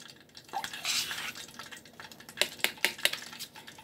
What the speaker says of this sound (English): I'm going to kind of give them a stir so that they can, you know, get all nice and coated